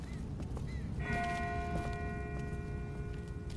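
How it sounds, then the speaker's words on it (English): A single distant bell strikes in The Walking Dead video game, its ringing tone hanging and slowly fading over a constant hiss of outdoor ambience. "That's not the same bell as before. This one's further off."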